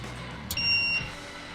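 One short, clean electronic beep, high-pitched and clear, as a VEVOR ultrasonic cleaner powers up, sounding once over a low background hum.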